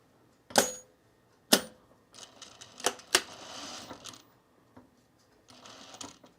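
Irregular bursts of a domestic sewing machine running unthreaded while summer pants are made, with sharp mechanical clatters and short whirring runs broken by pauses, close and fairly quiet.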